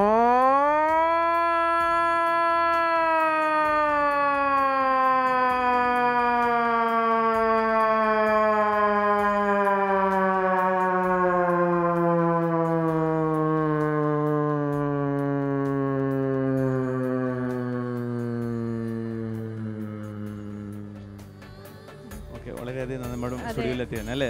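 A voice mimics a new municipality siren, a single long tone that rises briefly and then glides steadily downward for about twenty seconds before fading into faint background noise.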